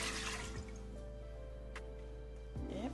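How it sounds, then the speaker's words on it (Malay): About 600 ml of water pours into a wok as the base for pandan agar-agar jelly, a steady close splashing and trickling that runs unbroken with no voices. "Dalam kuali kita letak 600 ml air"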